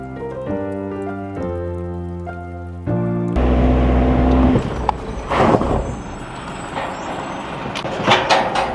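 A truck rumbles past on a narrow mountain border road near Niti Pass in Uttarakhand. A loud, close engine roar builds after a steady tonal horn-like drone, and gritty road and rattle noise follows.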